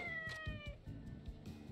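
A cat in the samurai-era action game Like a Dragon: Ishin! gives several quick, clear meows one after another, close and fairly quiet over a low game background.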